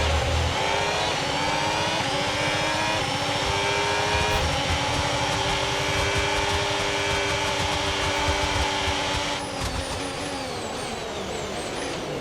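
Formula 1 car in a video game accelerating hard with hybrid overtake boost deployed, a loud, steady high-revving engine whine rising in pitch through the whole stretch, with a brief gear-shift dip and climb near the end.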